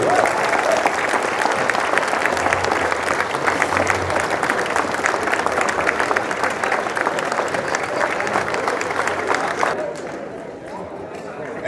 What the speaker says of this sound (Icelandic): Ég ætla að biðja ykkur að klappa fyrir Gumma og Hafdísi.